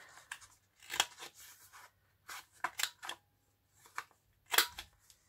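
Paper being trimmed with scissors at the corners while making a library pocket, a few short crisp snips spaced apart with quiet pauses between, close and fairly faint, no talking.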